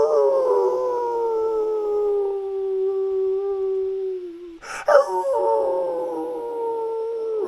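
A person imitates a dog howling at the moon with long, drawn-out, sliding howls. A sharp burst of noise breaks in partway through, then the howling resumes, loud and close.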